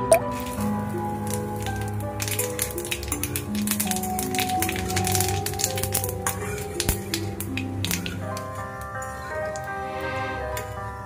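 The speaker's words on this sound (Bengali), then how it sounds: "সেই তেলে আমি ফোড়ন দিয়ে নেব একটা শুকনো লঙ্কা, 2টো তেজপাতা, আর দেব একটু সাদা গোটা জিরে।" Dried red chilli, bay leaves and whole cumin sizzling in hot oil for a tempering over khichuri, a steady close crackle and spatter with frequent sharp pops throughout, no voices.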